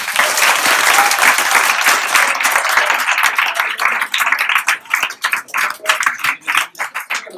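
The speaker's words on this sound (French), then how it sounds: "Je crois qu'on peut les applaudir." Audience at a student eloquence contest applauds, a dense burst of clapping at first that thins into fewer, sharper individual claps and then tapers off.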